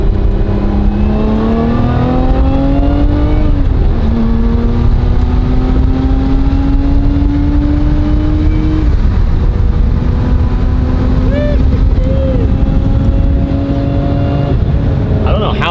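A rising supercharger whine climbs in pitch over steady engine and road drone from inside a moving British car on flat Phoenix, Arizona roads, repeating with each acceleration.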